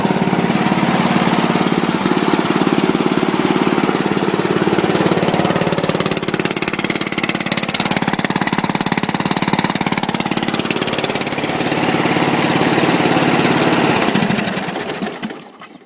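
A mud-style lawn tractor with a pull-start engine runs loudly and close at a steady, rough, buzzing roar for about fourteen seconds, then cuts off and fades at the end.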